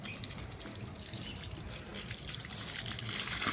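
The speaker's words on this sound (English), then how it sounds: "You now pour some water to wash out the ones you've already mashed on." Water runs and splashes steadily, a soft continuous trickle like pouring from a tap into a basin, rinsing mashed ukwa (African breadfruit) in a basket.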